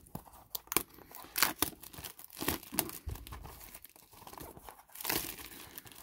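Trading card blaster and hanger packs for 2024 Topps Baseball are cut open and unwrapped, with repeated crinkling and tearing of foil wrappers in short bursts, fairly close and moderately quiet, no talking.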